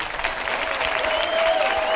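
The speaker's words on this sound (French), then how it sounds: "Je vous demande d'applaudir Mathilda May" Studio audience applauding guests Mathilda May and Karl Zéro on the TV quiz show Qui veut gagner des millions, a steady dense clatter of clapping throughout with a faint tone running beneath it.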